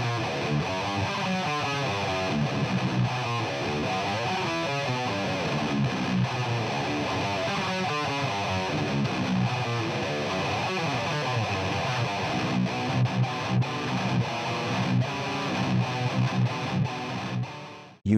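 Heavily distorted, high-gain electric guitar riffing with chugging palm-muted rhythms, unprocessed with no EQ filtering, dense and continuous for the full length, no voices.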